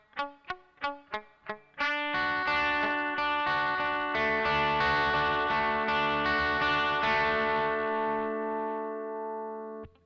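Guitar notes picked slowly while the fretting hand presses the strings down firmly: five quick plucked notes, then a sustained ringing chord that slowly decays, close and clear.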